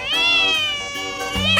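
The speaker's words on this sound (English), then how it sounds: "Whoa! Cat." A cartoon cat meows in a 3D animal slide video game: two drawn-out, bright meows over steady game sound, close and fairly loud.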